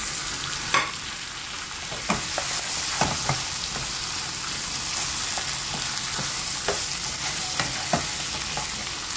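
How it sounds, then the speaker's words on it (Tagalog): Onion and carrots frying with pork in a pan for Japanese curry, a steady hiss with several sharp scrapes and clacks of stirring spaced through it, no talk. "Lagay natin yung onion at carrots."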